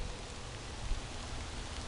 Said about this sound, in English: Been calling for rain all day. It's about 5 o'clock, and guess what? It just showed up.